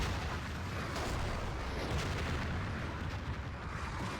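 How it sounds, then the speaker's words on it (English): Distant artillery from a Battlefield 2 conquest match rumbles as a steady, muffled barrage of low booms and crackle, continuous and fairly faint with no talk over it. "I see a Fiskus Factory artillery going to come down behind"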